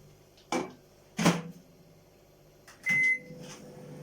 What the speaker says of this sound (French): Pendant ce temps, je vais mettre à chauffer mon chocolat.